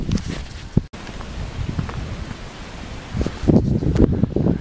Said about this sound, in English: As you can probably hear, it's fairly windy